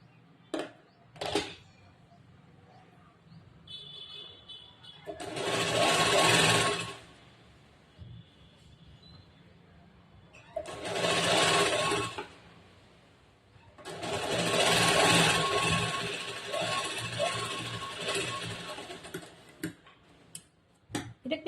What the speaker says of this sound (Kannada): ಅರ್ಧ ಇಂಚ್ ಬಟ್ಟೆಗೆ ಹೊಲಿಗೆ ಹಾಕ್ಬೇಕು.